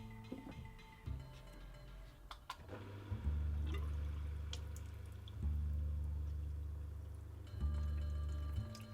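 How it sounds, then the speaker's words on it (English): A small electric pump switches on in bursts to push water through a homemade tap, each burst a low steady hum with water running and splashing quietly, separated by short pauses with clicks. "It seems to be working, and you can see me pressing the switch to activate the water pump."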